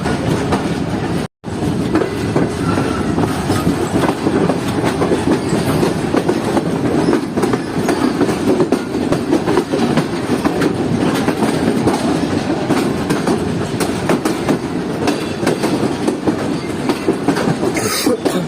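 Pak Business Express passenger train pulling off the platform lines onto the main line from inside, a loud steady rumble with dense clickety-clack over points and rail joints, continuous and close, no talking.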